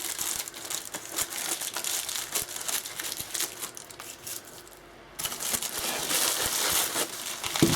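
A small plastic mailer envelope from an online order is cut open, giving close crinkling and rustling plastic with scratchy cutting noises, a brief lull near the end, then more crackling handling.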